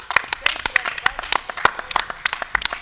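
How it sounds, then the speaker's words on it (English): A small conference audience claps for a moderator in sparse, distinct claps with an uneven rhythm, close by, while someone speaks over the applause. "Give him a round of applause to Jimmy."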